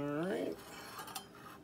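Brief clinking and stirring of a utensil in a little bowl while mixing a soy-sauce beef jerky marinade, faint and close after a short tonal sound at the start.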